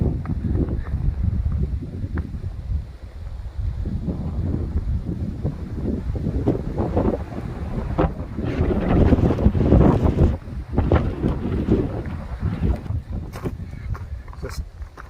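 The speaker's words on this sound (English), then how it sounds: "Really good views, really windy." Strong wind buffets the microphone along a mountain trail near Tinker Cliffs on the Appalachian Trail, a loud, constant rumbling roar with gusts that swell and ease across the whole stretch.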